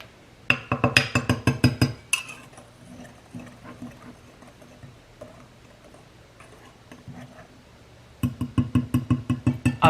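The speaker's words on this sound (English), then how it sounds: "Now I'm going to go ahead and whisk these together in this" A whisk rattles rapidly against a bowl as dry banana bread ingredients are mixed, loud close bursts of quick clinking strokes at the start and end with a quieter, sparser stretch between.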